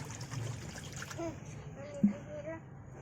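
Water trickles and splashes as it is poured into a kadai sitting on a lit stove, short and fairly quiet. A voice speaks over part of the pour.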